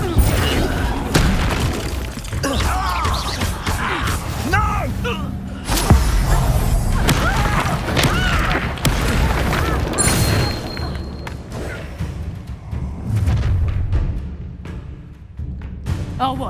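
Spell blasts fired in Hogwarts Legacy: loud, dense booming bursts and crackling impacts in rapid succession, layered with game music and effects, with brief voices in the mix.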